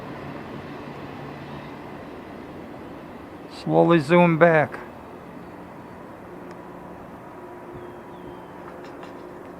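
A CSX freight train rolls past as a steady, faint, broad rumble, with someone briefly speaking over it midway.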